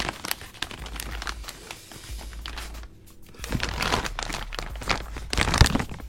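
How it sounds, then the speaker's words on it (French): Scooter part being unwrapped from its packaging, with loud, close crinkling and tearing of plastic in irregular bursts, a short lull midway, then more rustling. "je vais le déballer"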